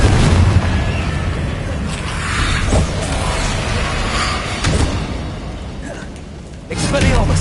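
The Confringo fire spell from Hogwarts Legacy, several booming blasts and impacts landing in quick succession amid rushing magical whooshes, loud and close, with a final burst at the end.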